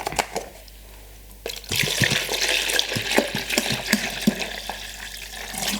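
Stop bath liquid for film developing is poured into a tank, a sudden rushing splash after a quiet start that continues with gurgling and trickling.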